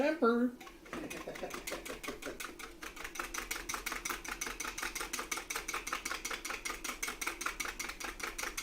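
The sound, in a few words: whisking eggs for tempering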